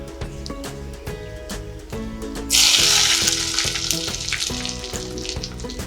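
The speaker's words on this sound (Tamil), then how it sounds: "நல்லா கிளறி விட்டுக்கலாம்." Roasted cashews are stirred into hot ven pongal, and a loud sizzling burst kicks in partway through, laid over steady background music with rhythmic beats.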